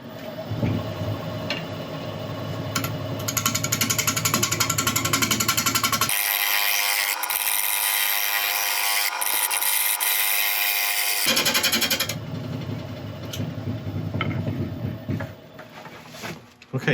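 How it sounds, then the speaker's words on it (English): A grass tree root turned on a lathe with a ball gouge, a loud, continuous close grinding roar of the cut and spinning wood, briefly shifting into a harsher high-pitched whine midway before returning. "So I'm going to start off with a ball gouge. Just try and clean up this outside, just get a feel for this wood"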